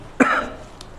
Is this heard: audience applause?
no